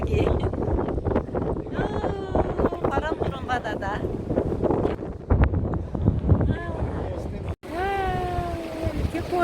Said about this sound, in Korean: 바람이 엄청 많이 불어요